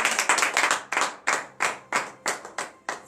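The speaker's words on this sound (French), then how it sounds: "Donnez de vives acclamations à l'Éternel." A church congregation claps in rhythm during a Friday morning prayer service in Benin, roughly ten sharp, evenly spaced hand claps in a steady beat, close and fairly loud, with no voices over them.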